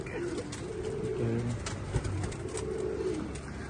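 Pigeons coo in low, soft repeated calls close by, a couple of rounds over a steady background murmur.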